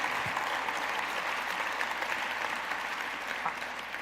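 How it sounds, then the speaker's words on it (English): Audience applause for a city team at a downtown Seattle civic event, a steady dense wash of many hands clapping that holds evenly for the whole stretch. "please join me in a round of applause for John and his team"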